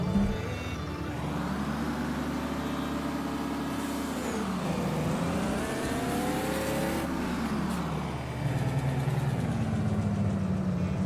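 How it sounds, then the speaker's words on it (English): A Kenworth truck engine rumbles at a close, steady idle, then revs climb and fall in a long swell before it settles back to a deep, even idle. "Oh, I love this truck with a passion."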